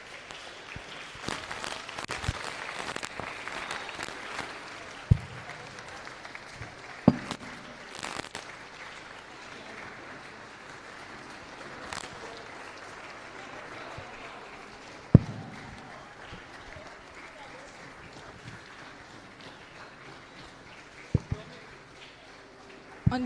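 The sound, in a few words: audience applause welcoming a guest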